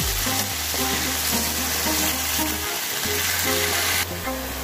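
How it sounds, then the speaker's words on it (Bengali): Gourd leaves stir-frying with spices in a hot pan, a steady close sizzle with stirring scrapes running throughout, no voices. "আমি সম্পূর্ণ লাউ পাতা দিয়ে দিয়েছি, এখন এটাকে আমি ফাঁকিয়ে নিচ্ছি।"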